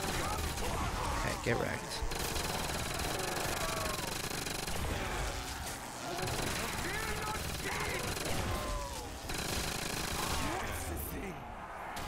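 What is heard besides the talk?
gunfire from a gun in Call of Duty World at War zombies video game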